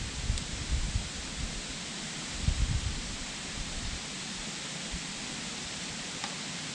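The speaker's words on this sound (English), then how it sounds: "The wind's picking up." Wind picks up outdoors, a steady broadband rush with low rumbling gusts buffeting nearby. A few stronger surges rise around the middle.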